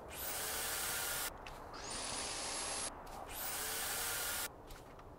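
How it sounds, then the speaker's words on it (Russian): Walls being broken in the factory-building game Factorio give a harsh, drill-like grinding buzz in three sustained bursts with brief dips between them, no voices over it. "Так, ломаю стенки."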